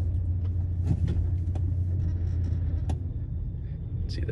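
A 1997 Ford F-250 XLT 4x4 with a 460 engine and five-speed manual pulls off in four-wheel drive, a steady low engine rumble close by with a few light clicks and knocks.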